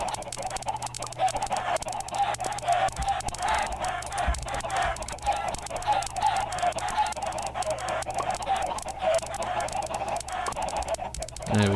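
Many Minecraft chickens let out of a pen cluck and squawk together in a steady, busy stream of overlapping calls, close and fairly loud.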